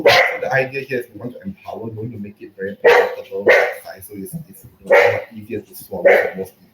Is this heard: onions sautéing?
no